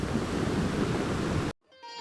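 The Saraswati river rushing at its source near Mana village, a steady loud broadband roar of fast water heard up close that cuts off abruptly near the end into faint quiet.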